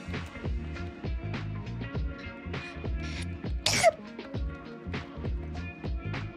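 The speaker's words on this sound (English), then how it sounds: "I have to sneeze." A single sharp sneeze bursts out over steady background music, brief and close.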